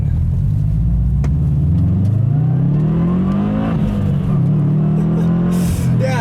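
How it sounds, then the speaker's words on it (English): A 2013 Subaru WRX sedan's turbocharged engine pulling hard: a loud, steady droning growl climbs in pitch through the revs, dips at a shift, then builds again, heard from inside the cabin with no talk. "you get some turbo lag, but once it comes on, I mean, it starts coming on pretty strong"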